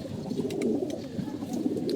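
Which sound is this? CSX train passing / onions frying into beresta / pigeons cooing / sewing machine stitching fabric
pigeons cooing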